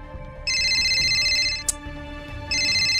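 A phone ringtone trills in two bright electronic bursts separated by a short pause, heard indoors at moderate loudness over a faint background hum.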